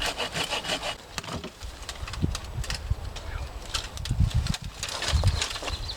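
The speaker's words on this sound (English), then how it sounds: "so I'm going to cut those back with a saw" A hand saw cuts through privet branches and trunks outdoors, rasping in steady back-and-forth strokes that come close and fairly loud, with a few heavier bursts near the end.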